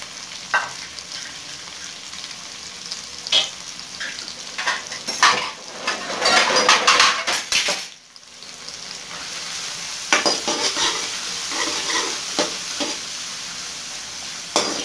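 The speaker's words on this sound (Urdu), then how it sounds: "آئل گرم ہو چکا ہے, اب اس میں پیاز ڈال دیں گے." Onions frying in hot oil already used for kofta, stirred in a pan, with a steady sizzle under repeated scraping and clinking strokes of a spoon, rising into a louder burst midway before settling again.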